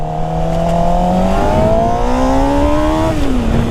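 A Suzuki GSX-R 600 sport motorcycle engine runs close and loud, its pitch rising smoothly as it revs up, then easing off slightly.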